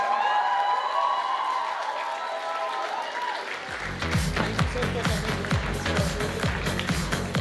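A conference audience at a model UN event gives a round of applause, a dense roll of clapping that swells in partway through, with sharp distinct claps and some low rumbling, fairly near and continuous.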